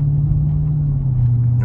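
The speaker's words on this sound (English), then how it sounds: "Cause I'm burning out going backwards." Low steady rumble of a Dodge Charger 392 Scat Pack engine during a reversing burnout, a loud droning tone held evenly throughout with no talk.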